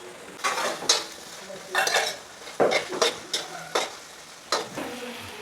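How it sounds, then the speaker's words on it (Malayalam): Onions and shallots sauté with salt in a pan, a utensil scraping and stirring in repeated bursts over a soft, steady sizzle, close and fairly quiet. "ലേശം ഉപ്പിട്ട് കൊടുത്തിട്ട് നമുക്ക് നല്ലപോലെ ഒന്ന് വഴറ്റിയെടുക്കാം."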